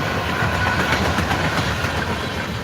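A train rolls past up close, a loud steady rumble with rhythmic clickety-clack of wagons over the rails, continuous throughout with no voices.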